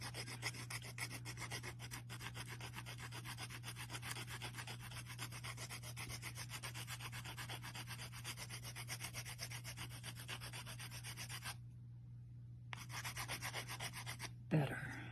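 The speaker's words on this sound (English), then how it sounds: "I've got to do more sanding here" Polymer clay millefiori pin being sanded by hand, a close, steady run of rapid rubbing strokes over a low hum, briefly pausing near the end before a final few scrapes.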